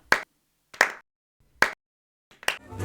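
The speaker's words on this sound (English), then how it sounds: "And I'm going to give it a slow clap." Four slow, deliberate hand claps spaced well apart, close and fairly loud, a mock slow clap ending a chat about Death on the Nile; a faint rustle trails the last one.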